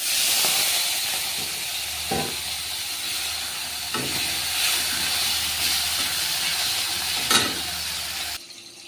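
Chopped tomatoes hit hot oil tempered with black cumin, giving a loud, continuous close-up sizzle and hiss with a few sharper spits and crackles, then cutting off abruptly near the end.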